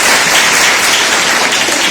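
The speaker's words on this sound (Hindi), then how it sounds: "इनको लिए ताली बजाइए प्लीज।" An audience fills the room with dense, steady applause, loud and close, sustained throughout without a break.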